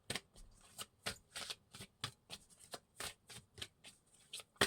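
A deck of tarot cards shuffled up close, a rapid run of crisp riffling bursts and slaps in an uneven rhythm, quiet and alone with no talk.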